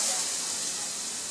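A steady, bright hiss like food sizzling in a hot pan, fairly loud and constant throughout.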